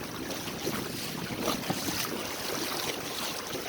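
Sailboat CROW cruises into Chimney Bay under gusty wind, giving a steady broadband rush of wind and water with small surges, close and continuous with no voices.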